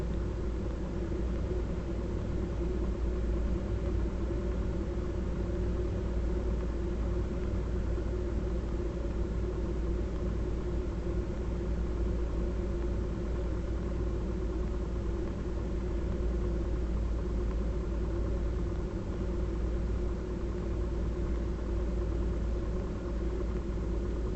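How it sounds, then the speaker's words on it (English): A Cessna 172 idles on the ground before takeoff, its engine a steady, unbroken low rumble with a continuous drone heard from inside, loud and even throughout, with no voices. "we have just the 172 sitting on the ground waiting to take off"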